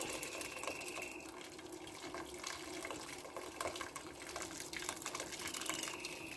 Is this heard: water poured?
yes